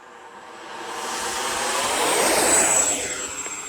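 An 80 mm electric ducted fan RC F-16 jet's high whine swells steadily as it speeds up and lifts away, loud and rushing, then begins to ease slightly at the end.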